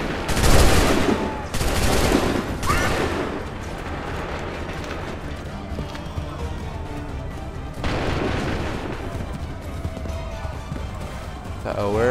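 Musket volleys crack out in Assassin's Creed III, a few loud bursts of massed fire early on followed by a later volley, with voices shouting over the battle noise.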